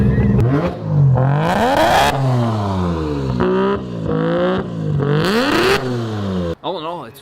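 A 3-rotor Mazda RX-7 rotary engine revving hard on a dyno at high boost and misfiring, its loud buzzing tone sweeping up and down through several pulls, with a rough stutter near the end.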